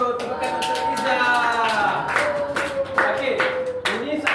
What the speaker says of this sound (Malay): Tepukan untuk Iza.